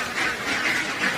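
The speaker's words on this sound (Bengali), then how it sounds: "সামনে গেলেই হাঁসগুলো এত ছোটাছুটি করে যা ভিডিও বানাতেই পারি না" Khaki Campbell ducks quack in a steady, repeated chorus of nasal calls, fairly close and loud, with no talking over them.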